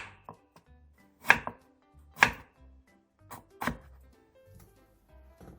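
A knife chops through whole pickled radish on a cutting board during Korean holiday jeon prep, with a handful of sharp, separate thunks spaced unevenly and close by, plus quieter taps in between.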